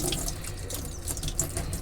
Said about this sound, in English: I'm actually going to put them through my colander.